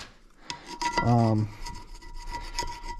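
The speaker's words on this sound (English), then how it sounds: "hurry up and get my scraping and brushing done and go rinse these babies off in the sink under the hot water." Scraping and brushing on Ford 460 cylinder heads coated in soap solution: close, rasping strokes with one loud, heavy scrape partway through and lighter brushing around it.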